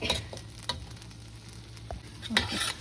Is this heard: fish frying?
yes